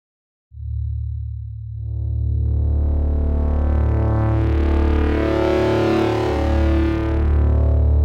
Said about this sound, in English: The drive stage adds gain and generates harmonic distortion.